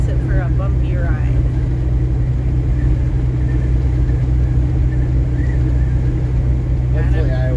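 A car drives along a rough, bumpy road in Iowa, its low steady rumble and road roar continuous and loud throughout, with faint voices in the background.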